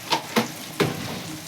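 Onion, cumin and mustard seeds fry in a hot pan with a soft, steady sizzle broken by three sharp pops and spits, close and moderately loud, with no talking.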